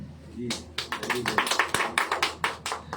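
A church congregation at a Hindi sermon claps in rhythmic, distinct hand claps that grow steadily louder and more regular, with a speaking voice in the background.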